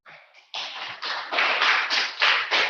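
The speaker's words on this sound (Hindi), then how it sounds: "बजाते रहो, 2 मिनट तक बजाते रहो" Students in a classroom clapping hands continuously, steady rhythmic group claps building from softer scattered slaps to a loud even beat, no talking.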